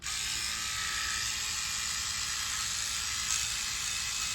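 A Freebird FlexSeries electric shaver runs with a steady, close buzzing hum that holds evenly throughout.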